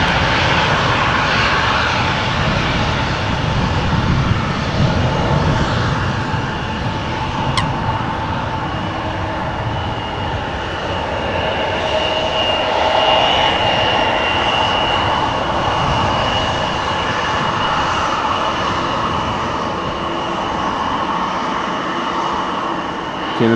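A KLM Embraer 175, registration PH-EXH and about eight years old, runs its jet engines at Amsterdam Schiphol while lined up for a flight to Frankfurt, giving a steady, loud, broadband roar with a faint whine throughout and no voices.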